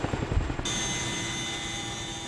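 Loud aircraft engine droning steadily overhead at about 600 m altitude, a continuous roar with high whine, following a brief burst of rumbling noise at the start.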